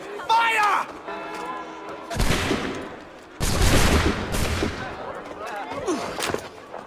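A musket volley fired on command in Assassin's Creed 3, heard as heavy loud blasts in two or three waves with crackling tails, after a shouted order and other voices.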